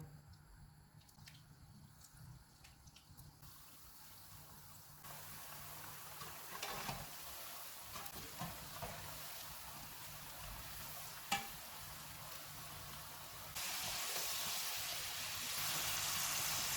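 Besan chips fry in hot oil over a low-to-medium flame, making a faint, continuous sizzle that grows a little louder partway through, with one sharp click near the end.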